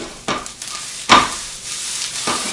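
Onions sizzling in a pan while being stirred, a soft continuous frying hiss broken by three scraping, stirring swishes, the middle one loudest, close by with no talking.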